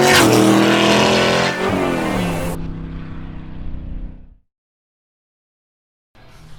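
A loud, roaring LS V8-powered BMW E36 time attack race car engine revs hard and then winds down, followed by sudden silence before a noisy burst returns.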